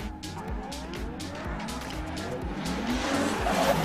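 BMW E36 drift cars launching into a tandem run at a Klaipėda drift competition, engines revving loudly with rhythmic pulsing bursts and rising tire squeal as the pair pulls away close together.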